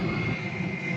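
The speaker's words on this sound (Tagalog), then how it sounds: "Kung saan banda yung lumilipad at bumababa yung eroplano, malapit lang tayo dito sa Tokyo Haneda International Airport, Japan." Airplane flying low over a residential area near Tokyo Haneda International Airport, Japan, a steady, fairly loud jet roar with a broad rumble and a high whine held throughout the second, no voices.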